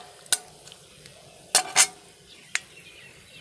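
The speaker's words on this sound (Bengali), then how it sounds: "এবার এগুলো একটু ভেজে নেব।" Ingredients frying in a pan over a low gas flame for doi katla: a quiet, faint sizzle beneath a few sharp metallic clinks and scrapes of a spoon against the pan, close by and with no voices.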